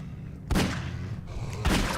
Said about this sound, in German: sie brauchen so viele Schüsse